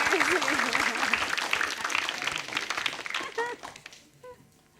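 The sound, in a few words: audience applause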